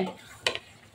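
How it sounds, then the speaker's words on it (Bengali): Fried eggplant tipped into a frying pan of boiled potatoes gives a brief clatter and a short sizzling burst, close and fairly quiet, against a low kitchen background. "এখন আমি ভাজা বেগুনগুলো দিয়ে দিব"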